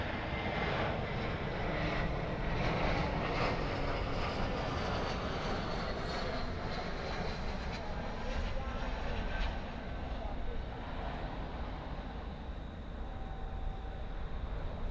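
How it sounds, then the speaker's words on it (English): An Airbus A321 arriving from Phoenix at Dallas Fort Worth Airport at night rumbles with a continuous moderate engine roar that slowly eases off toward the end, with no talk over it. "So Airbus A321 arriving from Phoenix"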